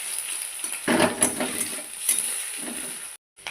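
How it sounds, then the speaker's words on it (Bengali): Fish roe frying in hot oil with onions in a pan, a steady sizzle broken by a few louder bursts of stirring and scraping, then cutting out briefly near the end. "এবার মাছের ডিমটা দিয়ে ভালো করে ভেজে নেব"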